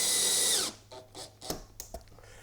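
A power drill driving screws into the side of a Flow Hive 2 seven-frame roof, a loud sustained whir that stops abruptly, followed by a few short clicks and taps.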